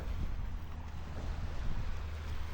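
A steady low engine rumble of a beach-cleaning tractor running continuously on an Italian beach, mixed with wind and distant surf in the open air.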